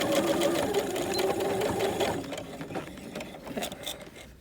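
A sewing machine runs steadily, stitching back and forth to close the small nose-piece pocket on a fabric face mask, its motor whirring loudly and continuously before easing a little toward the end.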